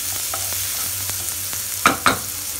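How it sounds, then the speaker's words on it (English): Chopped onion frying in oil for a dhaba-style methi chicken curry, a steady low sizzle throughout, with two sharper stirring clinks near the end. "Let them fry for a while."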